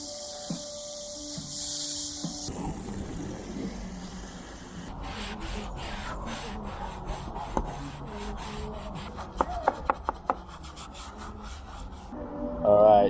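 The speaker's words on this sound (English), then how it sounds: "So the technique is rinse, scrub, rinse." Scrubbing on a sailing boat's surface, a steady rough brushing and rubbing that runs close and continuous, with a few sharper knocks near the end and no talking.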